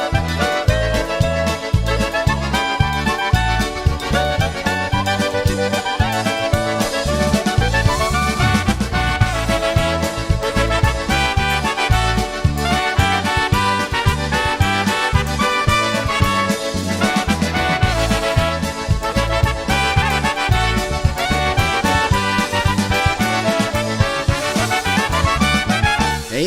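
Lively polka music plays continuously, with punchy horns and a bouncing oom-pah bass line keeping a steady dance beat.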